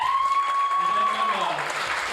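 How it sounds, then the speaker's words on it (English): Audience applause at a live improv comedy show, a steady wash of clapping lasting about two seconds, with a sustained whistle or feedback tone riding over it and some voices mixed in. "give them a round of applause"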